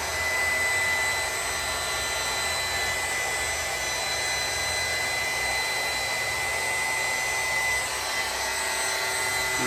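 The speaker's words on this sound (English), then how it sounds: "Vacuum clippers, let's go." Vacuum hair clippers run during a hairpiece hairline session, giving a steady, close whirring drone with a thin high whine that continues evenly throughout, much like a hair dryer.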